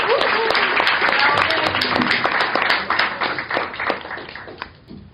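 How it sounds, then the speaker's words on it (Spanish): An audience applauds a speaker at a political talk, with loud, close hand clapping that holds steady and then thins out and fades toward the end. "un aplauso para él."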